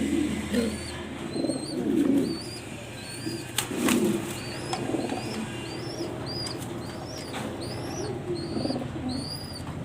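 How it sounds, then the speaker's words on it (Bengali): Several racing pigeons coo in low, soft repeated phrases, with high chirps and a brief flutter of wings in the background. "আনকমন রেহার কালার একবারে দেখার মতো কবুতর"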